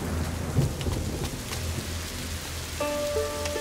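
In A Plague Tale: Innocence, steady rain pours with low rolling thunder underneath, a dense continuous wash that stays loud throughout with no voices.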